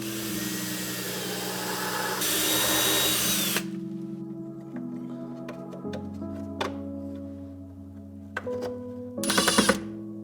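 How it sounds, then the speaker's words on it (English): A power drill whirs loudly through wood in several bursts, revving and pausing, with clicks and thuds between runs. "Finish that, drill all the way through."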